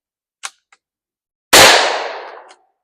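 A Ruger Precision Rimfire in 17 HMR fires one CCI 20 grain round, a single loud sharp crack with a decaying echo, preceded by a couple of faint clicks.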